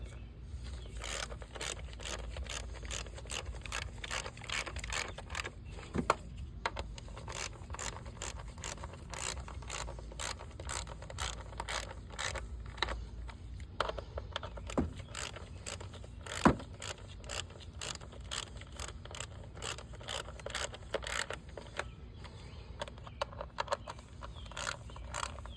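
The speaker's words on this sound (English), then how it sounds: "Now we're gonna use our 10mm again and tight all these down." A 10mm ratchet tightens the ignition coil bolts on a 2013 Hyundai Elantra, giving a steady run of quick, close metallic clicks with a few sharper ticks, and no talking.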